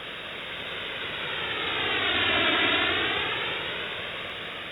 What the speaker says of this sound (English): I simulated the same scenario, but with a white noise source.